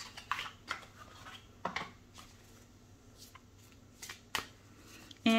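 Moonology oracle cards being shuffled by hand, a run of crisp riffling and flicking bursts spaced irregularly, close and fairly quiet in a still room, with no talking.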